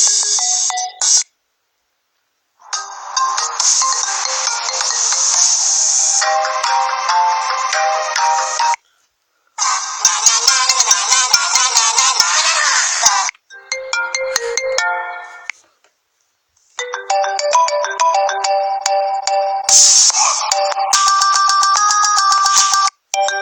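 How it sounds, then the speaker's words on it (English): Several phone ringtones play one after another, bright melodic electronic tunes in bursts separated by short silences, loud and clear with no voices. "if you want to have one of these as your ringtone, alarm, or text, just hold the button"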